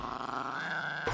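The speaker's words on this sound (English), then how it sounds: "Alright, so this is a woolly howl." The Woolly Howl dragon from the Dragons: Rise of Berk game lets out a steady, continuous growl. It is fairly loud and heard alone, with a slight rise toward the end.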